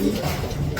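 A white, red and brown Lahore pigeon gives a single low, soft coo, close and brief.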